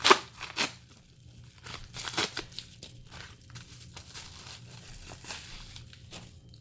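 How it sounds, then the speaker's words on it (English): Package holding a special edition pipe tobacco tin being cut open, with irregular crinkling, tearing and crunching of packaging close by, louder at the start and then a quieter run of rustles. "we're going to go ahead, we're going to cut that open right now"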